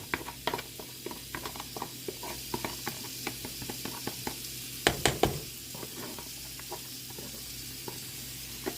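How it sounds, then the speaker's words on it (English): Shrimp sizzling in a pan for shrimp tacos, a steady close frying hiss broken by repeated clicks and taps of a utensil against the pan. "When you put the shrimp in, it's going to cook super duper quick."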